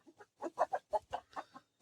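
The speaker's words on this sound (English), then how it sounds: "As much as those hens think they want out, they don't." Backyard hens and roosters clucking in a rapid, uneven series of short soft calls, close but fairly quiet, with no talking over them.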